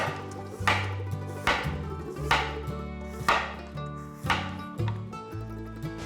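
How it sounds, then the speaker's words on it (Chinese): A knife slicing peeled Chinese yam on a cutting board, giving seven or eight close, crisp chops at a slow, fairly even pace. Each stroke ends in a short resonant knock. "把山药切片"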